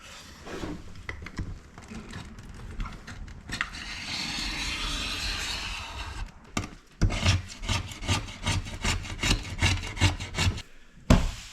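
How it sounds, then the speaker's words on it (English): A razor blade scraping long strips of old finish off a wooden boat deck, a steady rasping scrape at first, then a run of short, rhythmic strokes close up with brief pauses between them. "cut the edge with the Olfa knife before you get started with the razor, and then it just shaves off absolutely painlessly in these beautiful long strips"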